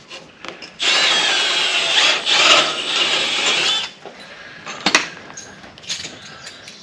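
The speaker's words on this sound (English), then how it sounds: "Drill through the back side." A power drill grinds loudly through metal for about three seconds during rust repair on a 2002 Ford F350, then stops, followed by a few sharp clicks and knocks nearby.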